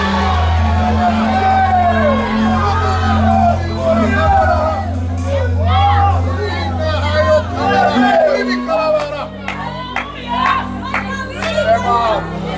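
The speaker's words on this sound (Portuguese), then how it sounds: "abra a sua boca e dê um grito de glória a Deus agora" A church congregation cries out in praise to God, a loud crowd of overlapping shouts, whoops and wavering voices that swells and ebbs over about twelve seconds, with a low hum beneath.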